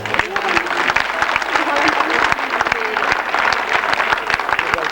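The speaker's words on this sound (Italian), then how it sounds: "venite, facciamo un applauso" Audience applause at a Sardinian folk choir concert in Meana Sardo, honoring children from a folk dance group, with brisk, dense clapping filling the hall, loud and steady from start to finish.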